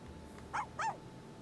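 A puppy in The Sims video game gives two short whimpering yips in quick succession, moderately loud over a faint steady background.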